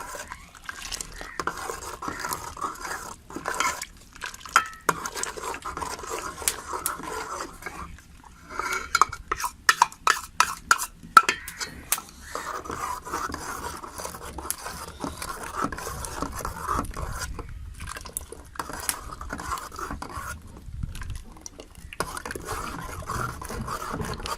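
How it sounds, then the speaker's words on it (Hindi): A spoon stirring custard in a metal pot, producing repeated scraping and clinking strokes in an uneven rhythm, sometimes in quick bursts, close and fairly loud with no talking. "अब मैं इसमें जो कस्टर्ड डालूंगी, आस्ता आस्ता चम्मच चलाते जाएं"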